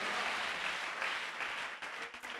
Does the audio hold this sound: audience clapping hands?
yes